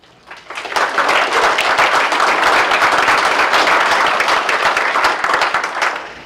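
Audience applause at a press conference, a crowd clapping that swells quickly and stays loud and even throughout.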